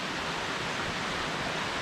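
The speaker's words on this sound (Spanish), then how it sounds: "Es una cascada." The El Chorro waterfall at Navafría, water pouring over rocks and producing a steady, even broadband rush that stays constant and moderately loud throughout, with no voices.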